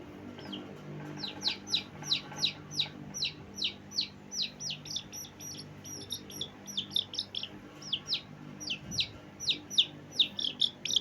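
A small bird chirps repeatedly in quick, high-pitched bursts, a steady run of short tweets close by over faint background hum.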